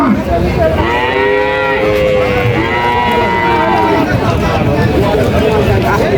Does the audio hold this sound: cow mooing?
yes